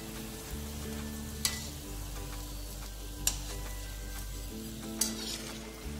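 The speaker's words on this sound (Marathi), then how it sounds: "मंद आचेवर गोल्डन ब्राउन कलर येऊपर्यंत तळून घ्यायचं आहे" Samosas deep-frying in oil over a low flame, a soft continuous bubbling hiss under a steady low hum, with three sharp clicks spaced a couple of seconds apart, no talking.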